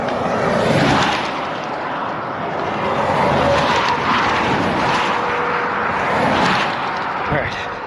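A large vehicle rumbles past close by, a broad roaring wash of road and engine noise that swells and fades over several seconds, with voices underneath.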